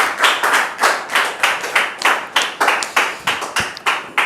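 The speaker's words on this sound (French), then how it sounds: "On peut le recevoir avec des applaudissements bien nourris." Steady rhythmic clapping from a small group welcoming a guest, about two claps per second in even unison, close and loud, with nothing else heard over it.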